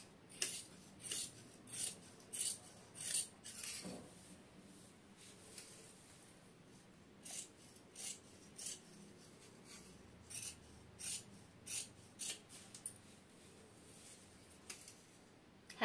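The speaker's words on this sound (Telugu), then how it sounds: "ఇప్పుడు దీని వెంట కటింగ్ ఇచ్చుకున్నాం" Scissors snip through boat neck blouse fabric in a series of short, crisp cutting strokes, close and fairly quiet, coming in rhythmic bursts with a brief pause midway.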